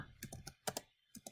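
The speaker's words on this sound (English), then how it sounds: "What if I type gamma?" Quick, close clicks of a computer keyboard come as someone types in short clusters, with a brief pause before a last few keystrokes.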